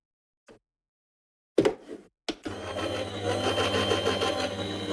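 Papercraft die-cutting machine starts after a few light clicks and knocks, then runs with a steady close mechanical whir and hum to the end.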